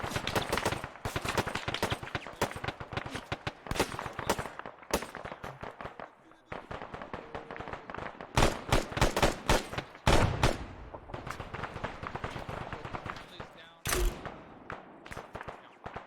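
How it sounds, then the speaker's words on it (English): Rapid bursts of gunfire in the military shooter ARMA 3, sharp close reports and clustered volleys crackling throughout, some shots nearer and louder, with voices talking over the firefight. "We've got shots fired to our northwest."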